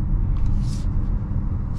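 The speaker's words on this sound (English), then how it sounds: "my foot's off the pedal, and it will not come to a complete stop, but it slows down pretty well" A 2024 Lexus RZ300e electric car coasting and slowing with no pedal pressed, heard from inside as a steady low road rumble and soft tire noise with no engine sound, continuous for under two seconds.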